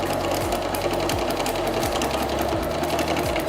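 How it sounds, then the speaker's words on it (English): Sewing machine stitching a straight line on paper, a loud steady mechanical whir with fast rapid needle clatter that runs continuously, with brief dips in speed, no voices. "learning how to control our sewing machine"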